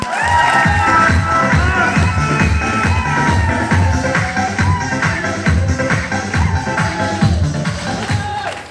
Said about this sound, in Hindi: तो दिल से हल्ला मार के इनके लिए एक बार जोरदार ताली बजाना